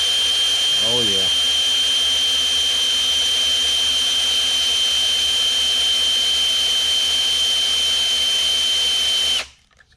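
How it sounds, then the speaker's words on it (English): An old DeWalt drill runs counterclockwise on low speed to prime the oil system of a pump-gas 508 stroker big-block Mopar engine, a steady whine holding for about nine seconds before cutting off abruptly. "Try a new drill. Our old DeWalt to the rescue. Counterclockwise, I got it on low."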